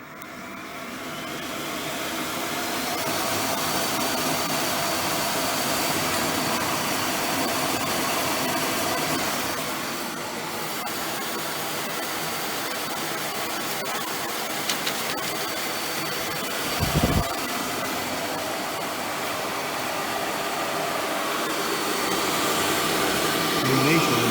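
A homemade electric kart motor runs continuously with a cooling fan pushing air through it, making a loud, steady broadband whoosh and hum with a brief dip and a short thump partway through.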